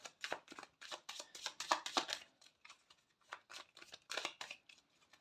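An oracle card deck shuffled by hand for a daily reading, giving soft, close papery riffles and slides in uneven bursts, quiet and alone.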